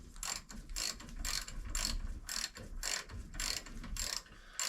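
A ratchet works a tight caliper bracket bolt back and forth on a 2016 Subaru Forester, making repeated bursts of rapid pawl clicking in an even rhythm, close and clear.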